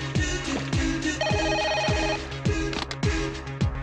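A telephone ring tone in a comedy film scene sounds clearly and close in quick, repeating electronic bursts with a melodic pattern, heard on the line while a call is being placed.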